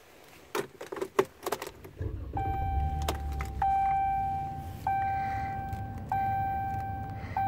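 Key fob on a 2014 Ram 1500 SLT, keys jangling first, then door locks clunking, followed by the horn blaring in repeated rhythmic panic honks over the idling truck.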